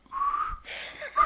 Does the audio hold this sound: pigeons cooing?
no